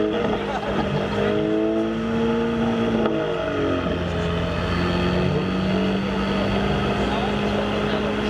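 A loud Ford Mustang engine runs and revs steadily at a car meet, its droning pitch rising and falling, with a voice faintly underneath.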